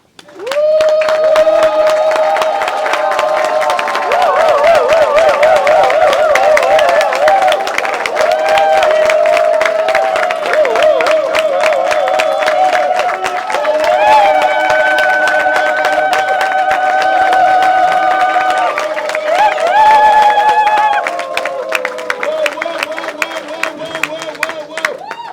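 An audience at a ceremony honouring a comedy performer applauds and cheers loudly over sustained music with a melody line, while voices call out through the crowd noise.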